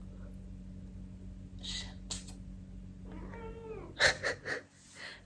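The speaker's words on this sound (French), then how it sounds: "Il y a le chat qui bronze." A cat meows several times in short close bursts, with a breathy wheeze, against a quiet background hum.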